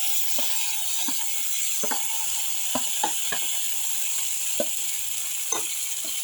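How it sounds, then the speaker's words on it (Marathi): Tur and masoor dal mixture sizzling in a hot pan as it goes in, a steady soft fry hiss with scattered light clicks and scrapes of stirring, moderately quiet and close. "आणि आता हे डाळीचं मिश्रण मी टाकत आहे त्यामध्ये"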